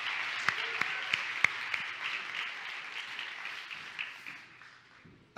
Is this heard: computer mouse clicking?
no